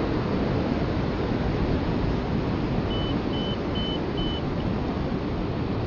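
Four short high beeps from a flight instrument come partway through, flying along a coast in strong wind, heard over a steady roar of wind noise.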